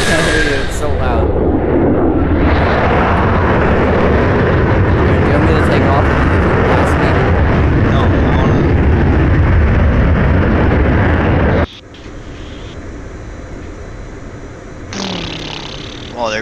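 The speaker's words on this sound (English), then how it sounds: "Wait, if the military fighter jet crashes into a cornfield, do they have to pay for the crops" A military fighter jet crashes in the DCS flight simulator game, with a long, loud roaring blast of engine and explosion noise that cuts abruptly to a quieter cockpit hum.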